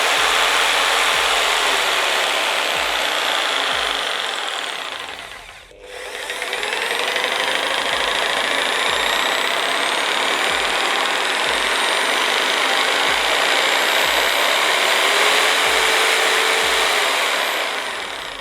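An electric jigsaw motor runs loud and steady, briefly winding down almost to a stop, then spinning back up and holding at a high whine.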